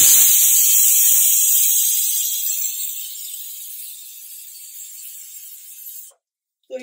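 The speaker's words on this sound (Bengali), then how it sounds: "তো এটাতে দুটো সিটি দিয়ে আমি বন্ধ করে দিলাম" A nonstick pressure cooker whistles with a loud, sustained hiss and shriek that gradually fades over several seconds, then cuts to silence, with a brief clink at the very end.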